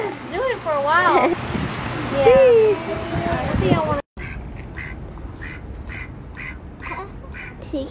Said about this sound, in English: He's saying quack.